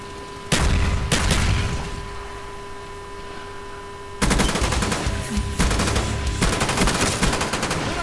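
Call of Duty Black Ops gunfire from a FAMAS and other weapons in the Jungle map, loud rapid automatic bursts, a quieter stretch with a steady electrical hum underneath, then sustained heavy firing.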